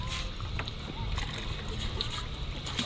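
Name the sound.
people splashing while bathing in a clear river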